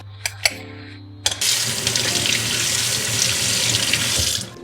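A kitchen tap runs into a sink during washing: a few small clicks, then a steady, close, full water stream that continues to the end.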